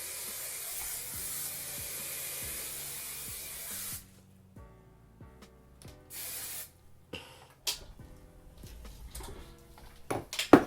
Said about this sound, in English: I'm going to back away from you again and hairspray.